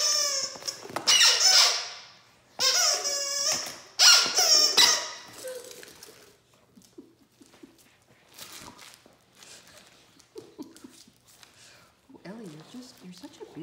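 Great Danes tearing the squeaker out of a plush shark toy set off three loud, shrill squeals in quick succession, followed by quieter rustling, scattered squeaks and faint murmuring voices.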